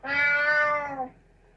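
A single clear, drawn-out cat meow, played by Google Assistant from a smart speaker, lasting about a second before fading into quiet.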